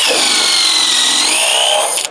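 A DeWalt cordless drill spins a spade bit at a trade show, a loud, steady high whine with grinding bite held for about two seconds before cutting off abruptly.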